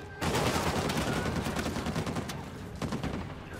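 Rapid bursts of gunfire in the video game Uncharted 4, an enemy shooting through a statue in an arena firefight, with dense crackling shots continuing throughout and a louder burst near the end.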